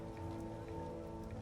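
Steady rain in The Witcher video game, a continuous even hiss of drops on surfaces holding at a constant level throughout, with no voices over it.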